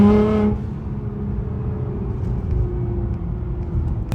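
A Nissan GT-R engine, still slightly cold, pulls at about 30% throttle in second gear: a brief tonal engine whine gives way to a steady, loud, throaty rumble that holds under load throughout.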